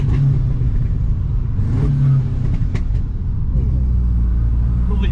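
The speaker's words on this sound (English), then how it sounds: "Lovely pops and bangs." An Audi S3 8V with a Stage 2 tune and a decat downpipe revs close by, its loud engine rumble rising and falling while a few sharp exhaust pops and bangs crack through.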